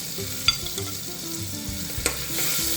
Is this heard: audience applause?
no